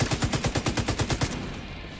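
Automatic gunfire rattles off in a fast, even burst of about a dozen loud shots in The Division 2, then cuts out into a lingering echo.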